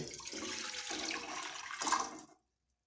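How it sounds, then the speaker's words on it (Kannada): Water is poured into a pot for spicy masala vegetable Maggi noodles, a steady rushing splash lasting about two seconds that swells briefly before stopping abruptly into silence, close and alone. "ನೀರು ಹಾಕಿ,"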